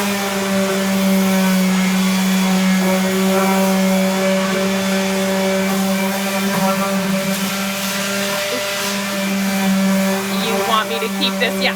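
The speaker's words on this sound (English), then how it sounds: "Oh, he's going to start sanding." A power sander sanding wooden car ramps whirs steadily and loudly for the whole stretch, a constant motor hum with faint voices underneath.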